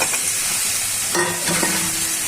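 Radish greens and green chillies stir-fry in a pan, giving a loud, steady sizzle with a couple of brief stirring scrapes and no voices.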